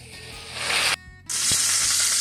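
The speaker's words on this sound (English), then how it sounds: "We have our morel sauteing in some butter." Morel mushrooms sizzling in butter in a pan, a steady bright hiss that briefly drops out before resuming, with a faint tap partway through.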